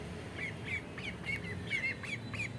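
Chinese ducks calling in a flat, a string of short repeated honking calls at an even rhythm over a steady low background hum, moderately close.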